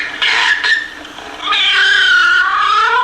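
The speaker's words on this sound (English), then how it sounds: "Now let's Listen to the cat." A cat meows twice, a short call followed by a longer, drawn-out wavering meow, close and fairly loud with no other sounds.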